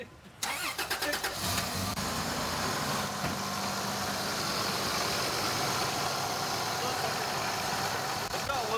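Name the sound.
Lexus LX 450 engine starting and idling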